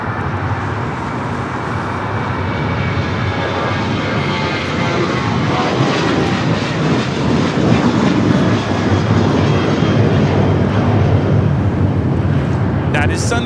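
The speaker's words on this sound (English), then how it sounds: "That is Sun Country Airlines 8711 taking off to San Jose, Costa Rica on the 737-800." A Sun Country Airlines Boeing 737-800 jet roars on takeoff, a loud, steady engine rumble building slightly over several seconds, heard close with faint voices underneath.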